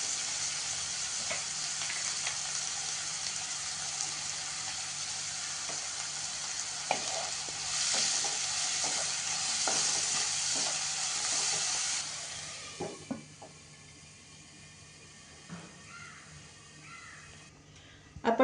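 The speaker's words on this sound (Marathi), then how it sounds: "आपण 2 मिनिटं कांदा टोमॅटो शिजायला झाकून ठेवला होता." Onion and tomato cook in butter in a covered pan, giving a steady soft sizzle and hiss that brightens in the middle, then quietens and thins out into faint scattered pops and clinks near the end.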